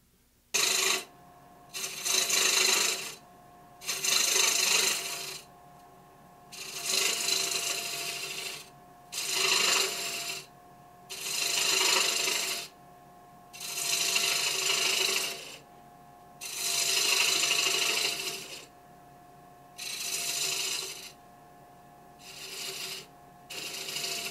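A mahogany bowl is turned down on a wood lathe, the tool cutting in repeated loud bursts of scraping, rasping noise, each a second or two long, separated by short quiet gaps, with no voices.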